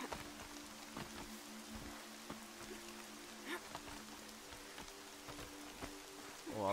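Steady rain falls in the video game Horizon Zero Dawn, a soft continuous patter with scattered drops heard close, plus a faint low hum beneath.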